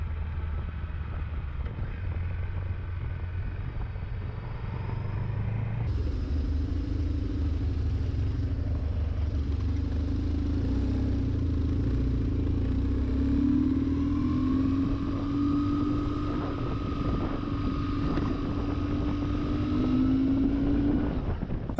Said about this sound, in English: Let's go out for a bike ride.